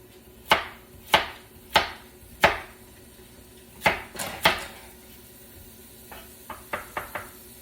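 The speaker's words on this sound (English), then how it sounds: "I'm just chopping up the veggies." Vegetables chopped with a knife on a cutting board for a rustic potato and sausage soup: eight or so sharp, evenly spaced knocks, then a quicker cluster of lighter taps, close and clear with no talking.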